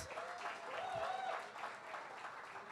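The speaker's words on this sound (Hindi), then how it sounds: "अबे तालियां तेज." Audience applause at a Bollywood song launch event, a brief burst of clapping heard at moderate distance with a voice over it.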